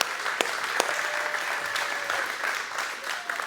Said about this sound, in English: Let's give Josh one more round of applause.